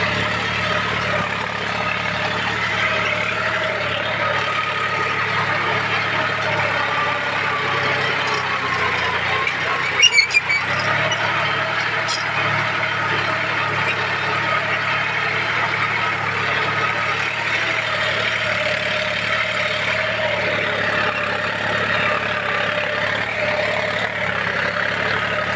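A John Deere 5105 tractor running while ploughing, giving a steady, even engine drone throughout with one brief clatter near the middle.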